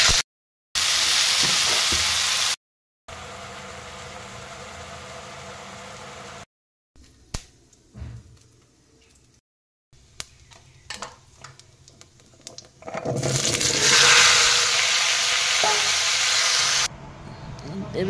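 Greens and onions fry in hot oil, a loud hissing sizzle that cuts in and out in several bursts, with stirring clatter and brief quieter gaps between.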